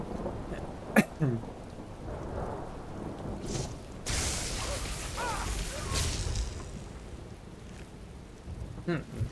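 Steady rain and rolling thunder in Skyrim, a constant soft hiss of rainfall with a rumbling swell of thunder midway, heard fairly distant beneath the game's ambience.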